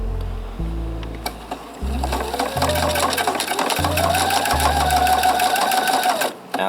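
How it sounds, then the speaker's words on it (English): A sewing machine stitches fabric while mending clothes, running in short bursts that stop and restart as it goes back and forward to secure the seam, its rapid whirring rhythm loud and close. "Now I'll go a few back to re-stitch that, make it a little more secure."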